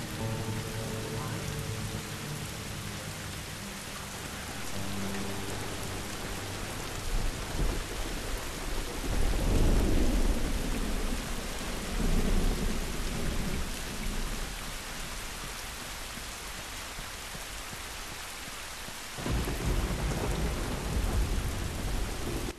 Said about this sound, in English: You can hear the, you can feel the lightning in the controller. Or the rumble, I guess, of the thunder.